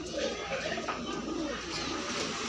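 Pigeons at a pet shop in Trilokpuri coo steadily through a dense, continuous bird chorus, with soft overlapping calls close by and no clear pauses.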